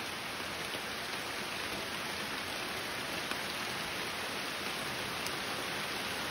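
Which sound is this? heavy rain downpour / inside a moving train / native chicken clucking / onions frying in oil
heavy rain downpour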